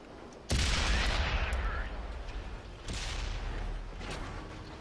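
Cannon fire from an STB-1 tank in an online tank battle game: two loud, booming shots roughly two seconds apart, each followed by a long rumbling decay.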